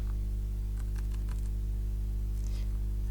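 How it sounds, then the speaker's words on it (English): Keys tapped on a computer keyboard during image editing in Photopea, a few light clicks spread over a steady background hum, close and faint. "I'm just moving it around with my arrows on my keyboard to make it select the right area"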